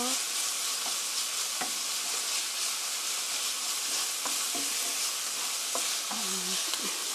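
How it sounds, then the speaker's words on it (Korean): Seasoned meat and onions stir-fried for mapo tofu, a steady close sizzle with scattered scraping clicks of a utensil against the pan throughout. "스터 프라이 5미닛 5분간 볶아주세요"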